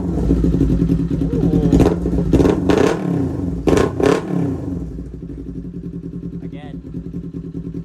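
2021 Kawasaki Z400 motorcycle fitted with a Hindle performance exhaust, idling close by and then blipped in several sharp throttle revs before settling back to a steady idle, with people talking briefly over it.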